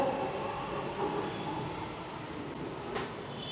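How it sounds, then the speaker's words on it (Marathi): A Bangalore metro train running through a station area, a steady rumble and rail noise with a brief brighter squeal near the end, fairly close and continuous, no one speaking. "तर आपली मेट्रो चाललेली आहे।"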